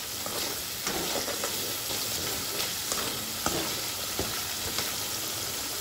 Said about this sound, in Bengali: স্বাদ মতো লবণ আর কিছুটা পরিমাণে চিনি দিয়ে ভালোভাবে মশলার সাথে আমি মিশিয়ে নিচ্ছি।